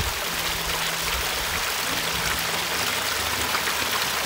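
A mountain stream tumbles down the hillside toward waterfalls, a continuous broad rush and gurgle of flowing water, steady and fairly near.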